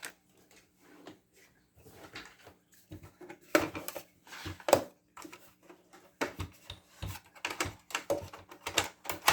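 The handle of a Spellbinders Platinum 6 die cutting and embossing machine is turned, making irregular clicking and clunking knocks in short bursts, close and fairly quiet over near silence.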